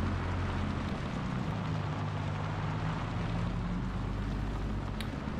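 Truck engine labouring uphill on an old logging road, a steady loud low drone with constant rumble and rattle throughout, no talking.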